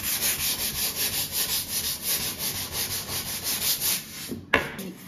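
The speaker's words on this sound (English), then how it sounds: "I'm just going to take a 120 with my sanding sponge, and I'm gonna go ahead and sand this down." Steady back-and-forth rubbing of a 120-grit sanding sponge over a wooden piano surface, close and continuous with an even rhythm of strokes, ending in a brief knock.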